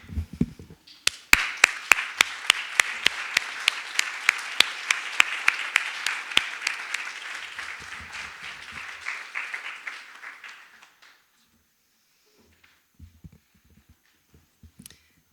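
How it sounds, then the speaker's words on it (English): Audience at an art and ecosystems symposium applauds a performer: a scattered round of distinct claps that builds to a steady patter, then thins out and stops, followed by quiet room sounds and a few faint shuffles. "so we can applaud"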